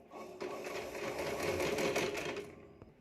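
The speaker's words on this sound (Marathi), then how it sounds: "त्यानंतर आपल्याला वरतून फिनिशिंग टीप टाकत घ्यायची आहे" A sewing machine runs a finishing topstitch on the front panel of a princess-cut garment, giving one close, steady whirring burst of rapid stitching that lasts about two seconds before it stops.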